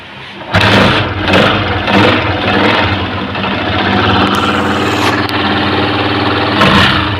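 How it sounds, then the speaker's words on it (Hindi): A Honda CG 125 motorcycle fires up after a repair, with a few sharp start-up bursts settling into a steady, close, loud idle with a low rhythmic thump. "अब बाइक को स्टार्ट करेंगे और अब इसको चेक करेंगे।"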